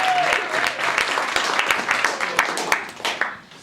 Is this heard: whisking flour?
no